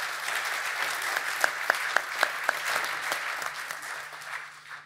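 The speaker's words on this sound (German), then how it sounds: "Auch Ihnen einen herzlichen Applaus" Audience applause in the Rüsselsheim theater at a civic event, a steady dense clapping from a full hall with a few sharp individual claps standing out near the middle, fading away at the end.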